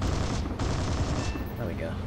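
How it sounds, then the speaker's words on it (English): Cannon and machine-gun fire in War Thunder, simulator battles with French tier 1 vehicles: a dense, loud burst of rapid shots lasting about two seconds, with a short gap partway through. "Why can't I hit you with a cannon?"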